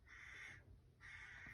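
Two drawn-out, harsh caws from a crow, separated by a short pause, fairly faint and without any talking.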